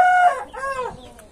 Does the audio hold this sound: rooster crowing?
yes